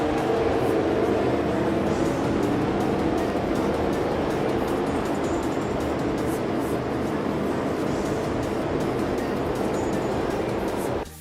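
A pack of stock cars rolls off behind the pace car at Homestead-Miami's 1.5-mile speedway in a racing video game, giving a dense, steady, loud engine roar that holds throughout and cuts off abruptly at the end.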